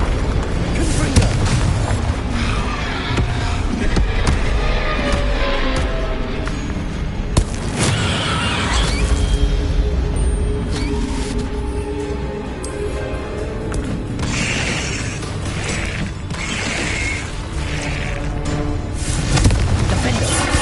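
Confringo spell blasts in the Hogwarts Legacy video game on PS5, dense booming explosions and bursts layered over continuous loud game effects and combat noise, with repeated impacts across the whole stretch.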